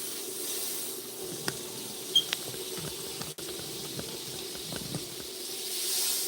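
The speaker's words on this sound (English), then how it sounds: "Oh, my butter's burning." Butter burns and sizzles in an overheated pan, giving a soft, steady hiss close by with occasional small pops and crackles, and no voices.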